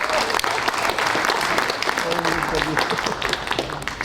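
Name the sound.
audience applause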